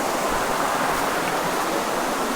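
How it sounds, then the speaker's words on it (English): A small creek near the San Rafael river pools in Antioquia, Colombia, rushes in a steady, close, continuous wash of flowing water, with no voices. "We have another little creek here."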